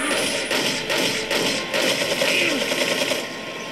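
Gunfire in Resident Evil 4 pops off in a dense, rapid stream of sharp cracks and thuds across the whole stretch, with a busy game soundscape running underneath and no voices.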